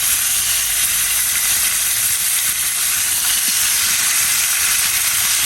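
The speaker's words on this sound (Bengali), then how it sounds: "এই যে মাছটা হলুদ দিয়ে রাখছি, এটা ভাজি করবো এখন হালকা করে" Turmeric-coated fish frying lightly in a pan, a loud continuous sizzling hiss that stays steady throughout with no talk.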